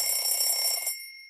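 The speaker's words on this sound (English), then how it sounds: "An alarm clock." An alarm clock ringing: a short, bright metallic trill lasting under a second, then a fading ring, heard alone at moderate level.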